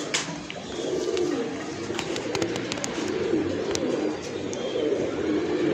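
Soft, repeated teddy pigeon cooing in a steady low rhythm, fairly close, with a few faint chirps and clicks in the background.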